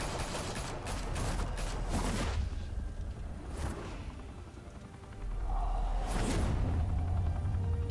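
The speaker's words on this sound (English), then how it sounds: "Open fire!" Gunfire erupts in the Batman: The Telltale Series video game, loud overlapping volleys and booming rumble for the first couple of seconds, then scattered bursts and whooshes over a heavy low roar.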